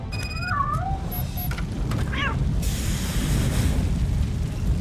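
A cat meows a few times in RoboCop: Rogue City, short rising cries set against a loud roaring rumble of fire and a distant boom.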